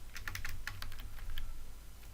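Computer keyboard keys clicked in a quick, irregular burst while data is entered into a C# Access database form, close and fairly clear over a low background hum, with no voices.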